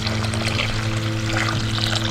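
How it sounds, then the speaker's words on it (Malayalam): Water pours into a pan of sautéed red lentils for a dal curry, a continuous close splashing flow over a low steady hum. "ഇനി ഇതിലേക്ക് ആവശ്യത്തിനുള്ള വെള്ളം ഒഴിച്ചു കൊടുക്കാം."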